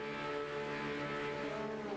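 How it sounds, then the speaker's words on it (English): Porsche race cars in an esports Supercup racing game revving engines on the grid at Long Beach before the start, a dense sustained engine drone with layered harmonic tones at steady loudness. "Drivers' engines rev."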